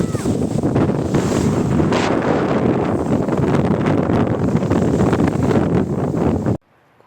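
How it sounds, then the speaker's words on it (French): Strong wind roars and buffets the microphone in a loud, continuous rush on arrival at a village during a hike, cutting off abruptly near the end. "Il y a énormément de vent."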